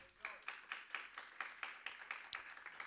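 Church congregation clapping hands together in a steady rhythmic beat, about four claps per second, faint and somewhat distant in a reverberant room.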